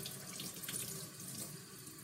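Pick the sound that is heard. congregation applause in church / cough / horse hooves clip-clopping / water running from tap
water running from tap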